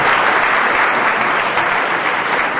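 An audience applauds Devyani madam at a formal gathering, loud, close and sustained clapping from many hands that keeps up steadily throughout.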